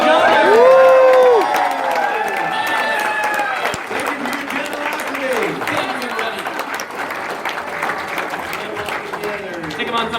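Crowd applause and cheering after a sale at a charity auction, loud whoops and shouts over continuous clapping, with voices calling out among the crowd.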